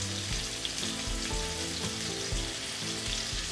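Pumpkin pieces with fennel seeds and salt sizzling in a hot pan as they are stirred, a steady close frying hiss with soft scraping strokes repeating every half second or so.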